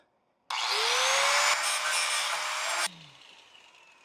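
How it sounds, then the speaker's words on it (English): Angle grinder powered from an EcoFlow portable power station grinds down a worn mounting hole on an M416 overland trailer, spinning up loudly with a falling whine, a steady harsh roar for about two seconds, then spinning down. "this one's pretty worn down, so I'm going to have to grind it down"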